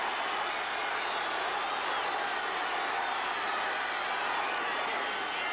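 A packed stadium crowd at an NFL game between the Chicago Bears and the Dallas Cowboys rises to its feet on third down and goal, a continuous, wide roar of cheering that holds steady and loud.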